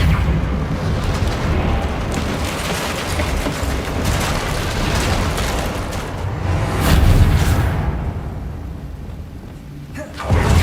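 A Bombarda blasting spell bursts in a wizarding school video game, its dense roaring explosions running almost continuously for the whole stretch and swelling into a louder boom near the end.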